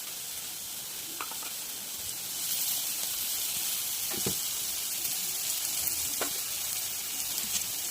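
Ginger garlic paste and turmeric frying in oil in a pan, giving a steady, soft, close hiss with occasional scraping stir sounds and no voices.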